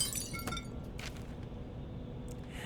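Glass in a picture frame shatters in the horror game Penumbra, a single sharp crash with brief tinkling debris, followed by quieter scattered clinks over a steady low background.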